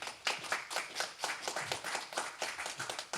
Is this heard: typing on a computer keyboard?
no